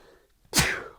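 A single sharp sneeze erupts close to the microphone in a quiet podcast studio, a sudden loud burst that fades over half a second after a brief silence.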